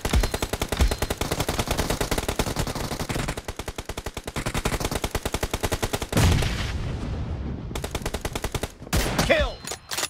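Rapid automatic gunfire in a team-based multiplayer shooter game, with dense sustained bursts broken by a few brief pauses, loud and close throughout.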